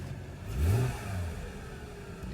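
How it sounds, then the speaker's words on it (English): A 2009 Mercedes-Benz E350 W211 with the M272 engine is revved once at close range, the engine note rising and falling over about a second before settling back to idle. "Yeah, no problem revving there."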